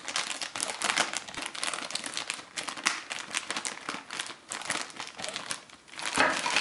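Packaging of Tarot drone parts being torn open, giving continuous close crinkling and crackling of plastic wrap that stays steady throughout.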